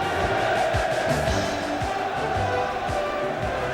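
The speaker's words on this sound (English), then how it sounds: "Just listen to that Swindon crowd, they're behind me right now" Swindon Town supporters fill the stadium at Sellers Park during the 1987 Third Division play-off final replay against Gillingham. The roar is loud and steady, with rhythmic chanting running under the broad noise of the crowd.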